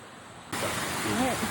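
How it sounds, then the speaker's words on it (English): Waterfall in Darién National Park, Panama: a steady, loud broadband rush of falling water that starts abruptly partway through and continues to the end, with a voice speaking over it. "All right, made it. The waterfall."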